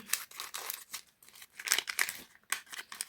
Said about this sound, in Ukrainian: І давайте відкриємо ось такий ось пакетик